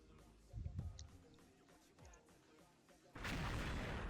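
Gunfire in the video game XShot during a mummy-hunt match in a psychiatric hospital level: a couple of muffled shots early, then a loud sustained burst of rapid fire at the end.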